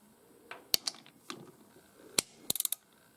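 A socket wrench with a 13 mm socket ratchets while tightening the drain plug on a 2023 KTM 450 XCF during an oil change, giving a few sharp, close clicks, with a quick run of four clicks near the end.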